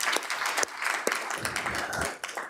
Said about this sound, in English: One more round of applause for these amazing principals.